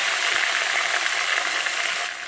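Onion and tomato frying in a pan for chicken curry, a loud, steady hiss of sizzling oil close up that holds throughout and dips slightly at the end.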